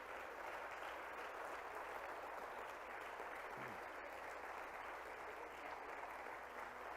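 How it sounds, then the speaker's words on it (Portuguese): A church congregation applauds for Jesus at a worship service, a faint, even wash of distant clapping that continues steadily throughout without breaks. "Você pode aplaudir Jesus."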